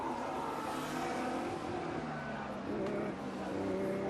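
Formula 1 cars, Sainz's Ferrari among them, running on a wet track during British Grand Prix qualifying, a steady engine drone heard from a distance under continuous commentary.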